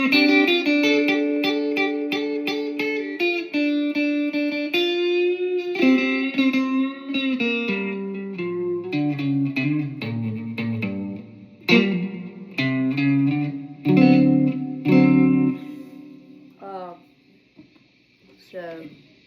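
Electric guitar plays a blues lick from a song intro, with string bends and quick runs. The tone is loud, close and slightly overdriven with some reverb, and the phrases are uneven, ending in a soft fade.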